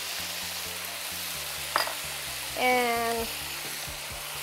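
Ketchup and black pepper being stirred into a sizzling pan, a steady low frying hiss with a few soft scrapes and one brief clatter, while a voice speaks a single word near the start.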